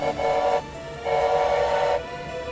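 Two long, loud blasts of a train horn in the Choo-Choo Charles video game, the first short and the second held longer, with a brief gap between them and no talking.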